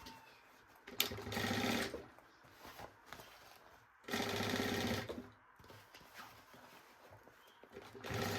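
A domestic sewing machine runs in two longer bursts and a few short stitching runs while sewing a seam on a fabric baby backpack, its motor whirring close and steady between quieter pauses.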